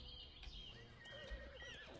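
A Shimmer Equus horse in the game Ark Survival Evolved gives a faint whinnying neigh over soft ambient game sound, with a low thump partway through and no talking.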